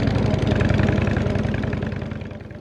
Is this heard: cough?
no